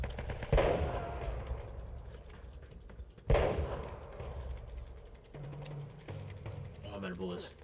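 Two loud, close bursts of gunfire in the Uncharted: Drake's Fortune video game, heavy blasts with echoing decay, followed by quieter game effects and a voice talking over them.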